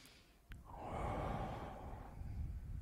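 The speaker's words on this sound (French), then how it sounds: "Une respiration." One slow, audible breath drawn in quietly and then let out as a soft, airy sigh, alone and close in a calm, quiet room.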